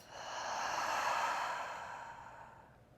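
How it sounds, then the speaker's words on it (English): A single long exhale through the mouth during a restorative yoga session, a soft breathy whoosh that swells and then fades gradually over about three seconds, close and alone. "Take a deep breath in through the nose. Exhale through the mouth."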